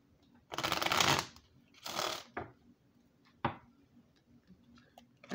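Fortune telling cards are shuffled by hand close up in two brisk riffling bursts, then come a few soft taps and flicks as the deck is squared in a quiet room.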